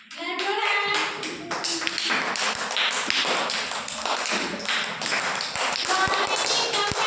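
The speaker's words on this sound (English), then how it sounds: "Clap your hands." Children clapping their hands together in a classroom, loud, close and fairly irregular, with young voices speaking at the same time.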